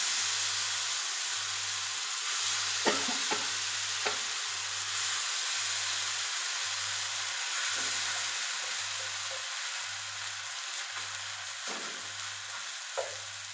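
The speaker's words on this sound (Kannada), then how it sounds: "ಹಂಗೆ ಮಸಾಲೆ ಫ್ರೈ ಮಾಡ್ತೀನಿ" Masala-coated mackerel (bangude) fries in a pan with a constant loud sizzle and hiss. A low pulsing hum repeats regularly underneath, and a few faint clinks are heard.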